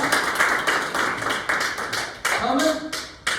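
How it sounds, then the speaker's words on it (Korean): An audience at a gathering claps in short bursts, the sound cutting in and out several times. A voice is heard briefly along with the clapping. "잠깐 박수 한번 주세요."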